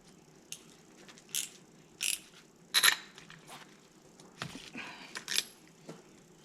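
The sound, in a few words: torque wrench tightening boat motor spark plug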